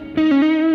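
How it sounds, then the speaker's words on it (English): A sustained electric guitar note through a Fender Deluxe amplifier on maximum distortion with a 2x12 cabinet, played on the neck pickup: one sharp attack then a thick, buzzing held tone, loud and close. "I have used Fender Deluxe amplifier set on the maximum distortion"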